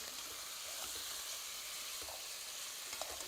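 Seasoned rabbit pieces fry in a pan with a steady, even sizzle and soft crackle, close and continuous with no voices.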